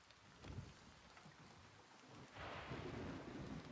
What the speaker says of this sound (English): Yeah, stormy weather really is messing with us